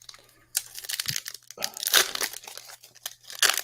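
Cardboard box top being torn off by hand: crinkling, ripping bursts in several uneven pulses, close and fairly loud, with a steady low hum underneath.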